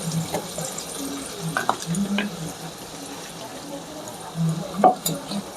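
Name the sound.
stirring and shaking spice mix in a mixing bowl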